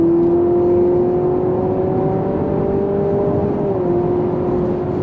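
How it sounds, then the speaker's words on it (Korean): A sixth-generation Honda CR-V hybrid SUV accelerating, its engine giving a steady, loud droning whir with a smooth tonal hum that holds nearly constant throughout, heard alone without voices. "엔진 사운드만 커지는 것 같아요."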